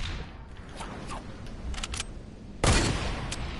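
A single sharp gunshot from a trick shot in a video game cracks out near the end, louder than the light clicks and small sounds before it.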